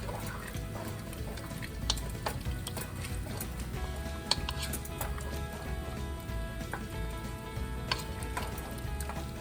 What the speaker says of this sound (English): So now I'm going to add my kidney beans. It's 2 cans that I drained and rinsed. I'm gonna mix those in.